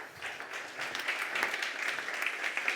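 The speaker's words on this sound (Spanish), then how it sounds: "Un aplauso." Audience applause for a speaker at a rural tourism conference, fairly faint clapping from a seated crowd that builds slightly and holds for a few seconds.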